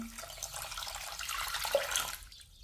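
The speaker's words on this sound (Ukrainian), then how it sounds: "Виливаю воду" Water is poured into a pot of sugar and instant coffee for a glaze, a soft continuous splashing stream that fades out near the end, quiet and alone.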